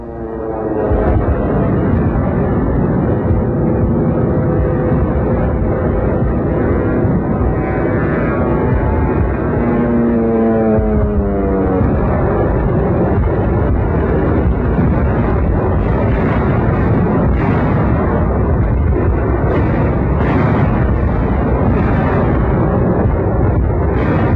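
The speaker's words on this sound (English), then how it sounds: "the Air Force took to the skies to bomb and strafe and fight the rejuvenated Luftwaffe to the ground." Wartime aircraft bombing and strafing over the Battle of the Bulge: a loud, continuous roar of aircraft engines with rumbling explosions and bursts throughout, dense and unbroken from start to finish.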